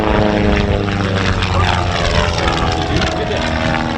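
The propeller engine of a Long EZ aircraft drones loudly and continuously as it performs aerobatics at the Lake Cumberland Air Show, with a steady buzzing tone and faint crowd or commentary noise underneath.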